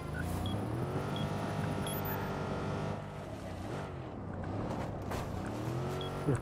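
A car in Watch Dogs 2 drives hard with a loud, continuous engine roar that rises and falls, with brief squealing swerves and no speech over it.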